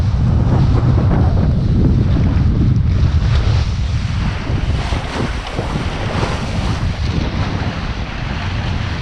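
Strong gusting wind roars across the microphone at sea during a kitesurfing session, a loud, constant low buffeting with water rushing beneath it and no voices.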